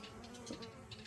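A large honey bee swarm buzzes in a steady, faint drone of many wings, with individual bees briefly passing closer over the continuous hum.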